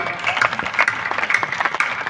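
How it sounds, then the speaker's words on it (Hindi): An audience at a large Hindi poetry recital claps in a steady, crowded burst of applause that sounds moderately distant and continues evenly for a couple of seconds without speech. "घनघोर तालियों के लिए बहुत बहुत आभार"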